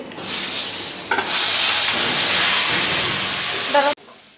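Greens dropped into hot tempering oil for a leafy shak fry hiss in a loud, steady sizzle, with a sharp crackle as they hit the pan and a brief burst near the end before the sound cuts off.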